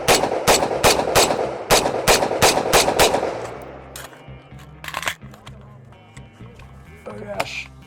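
Rapid rifle shots from a KP-15 or BRN-180 ring out in a quick string of about a dozen loud, close cracks, then stop, followed by a few scattered clicks and faint handling sounds.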